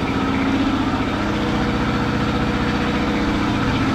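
A dune buggy engine idles steadily with a slight misfire, carbon and corrosion built up in it; the close, continuous low rumble carries a faintly uneven pulsing rhythm throughout, with no voices.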